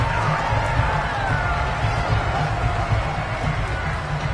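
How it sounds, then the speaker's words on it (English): A large stadium crowd roars steadily at a Raiders at Chiefs football game, a dense wash of cheering and clapping from many people that fills the space. "How about some applause for the defense there?"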